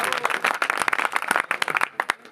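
Applause from the audience at a Hindi comic poetry gathering, a burst of many hands clapping that thins into scattered, separate claps toward the end.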